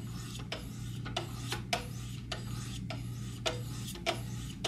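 A knife blade drawn across a 1000 grit sharpening stone, giving a steady, even rasping scrape with regular strokes roughly every half second, close and alone.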